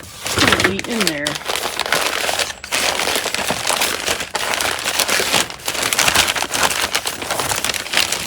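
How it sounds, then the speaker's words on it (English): Light rain patters steadily outdoors in an open work area where Volkswagen split-window buses are being worked on, a dense broadband hiss with scattered crackles, briefly joined by a short voice near the start. "just enough rain to kind of make it miserable out here"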